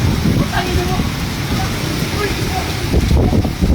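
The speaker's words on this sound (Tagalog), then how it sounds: "Oh my god, malakas ang hangin mo" Strong wind and rain during Typhoon Crising, a loud, rough roar of gusts buffeting the microphone over steady rainfall, with voices faintly in the background.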